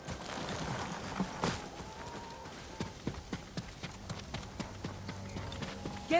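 Horses' hooves clip-clop steadily on the ground in the samurai action game Ghost of Tsushima, a quiet irregular patter with soft background ambience.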